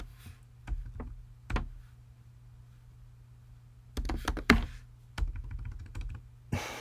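Custom text goes in on a computer keyboard in scattered bursts of sharp key clicks, some quick runs and some single taps, with quiet gaps between them over a low steady hum.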